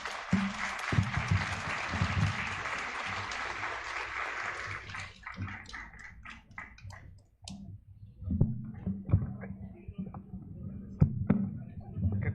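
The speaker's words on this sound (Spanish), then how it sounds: "Un fuerte aplauso, por favor." Applause from a conference audience, dense continuous clapping for about five seconds that thins into scattered individual claps and brief murmurs, then a few louder isolated claps near the end.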